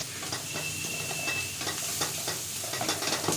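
Okra masala with cumin powder, garam masala, turmeric and green chillies being mixed in a hot pan, producing a steady close sizzle broken by repeated scraping strokes of a spoon, with a faint thin whistle early on.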